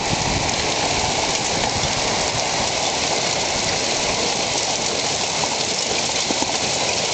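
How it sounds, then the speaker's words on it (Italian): Dense, steady pattering of hail striking surfaces during a night hailstorm, constant and loud throughout with no voices. "è iniziata una grandinata, sta grandinando"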